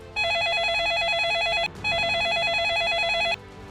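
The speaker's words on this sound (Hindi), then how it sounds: "17 मई 2014 को अरविंद शर्मा के फोन पर एक कॉल आई।" A telephone rings for an incoming call, giving two loud, close electronic trilling bursts separated by a short pause, with no talking.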